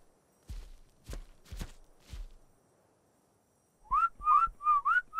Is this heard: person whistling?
yes